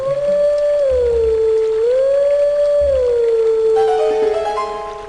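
A wolf-howl tune played on a grass reed in the Twilight Princess game: one long, pure whistling tone that swoops up and down in slow waves for several seconds, close and steady, with a brighter trill of extra notes near the end.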